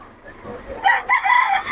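An eight-month-old stag rooster crows once, a loud nearby call that rises then holds in broken bursts, at a busy market with faint voices around.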